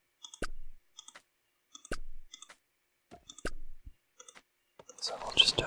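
Mouse clicks ordering villagers to chop trees in the Kingdoms & Castles game, sharp close clicks in small clusters with short gaps, then a brief soft chop-like game sound at the end.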